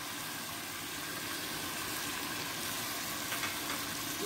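Masala for chicken karahi fries in a pan with a dense, continuous sizzle and hiss, steady and fairly loud throughout with no talking.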